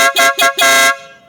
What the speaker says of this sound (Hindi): अब दोनों हॉर्न एक ही साथ चलेंगे